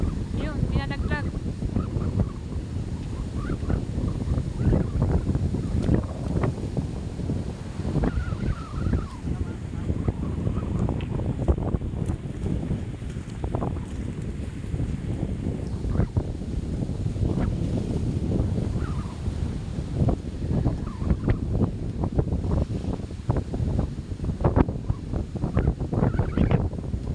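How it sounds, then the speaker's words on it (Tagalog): Strong gusting super typhoon wind batters the microphone in a constant, heavy roar, with flapping bursts and faint voices now and then beneath it. "Palakas lang hangin."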